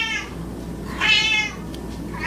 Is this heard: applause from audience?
no